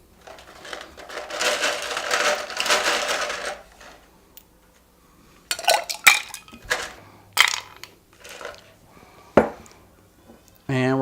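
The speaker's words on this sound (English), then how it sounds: "So we're going to add our ice." Ice goes into a cocktail shaker for an East Indies Sour, a rattling clatter of cubes followed by several sharp clinks and knocks of ice and metal, with quiet gaps between.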